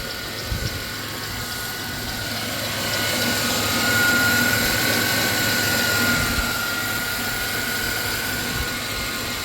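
A 2000 Chrysler Grand Voyager SE engine with a bad motor mount runs at idle nearby, giving a steady mechanical hum with a faint whine that swells slightly midway and then settles.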